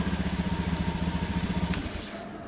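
A 2019 Honda Beat ESF scooter engine, started normally with the key, idles with a fast steady putter that cuts off near the end as a short bright click sounds.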